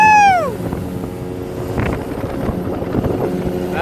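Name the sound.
motor boat engine on dam reservoir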